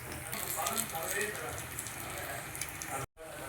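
Black urad dal vadai sizzling and frying in hot oil, a steady dense crackle and bubble running close and fairly loud throughout, with a brief dropout near the end.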